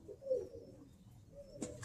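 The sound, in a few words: Birmingham Roller pigeons cooing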